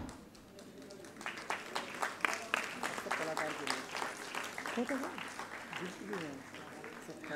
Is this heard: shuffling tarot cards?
no